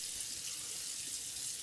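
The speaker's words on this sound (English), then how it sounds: "Put on the cold water now." Cold water running from a bathroom tap into a sink during a shaving routine, a steady soft hiss heard alone at low level without pauses.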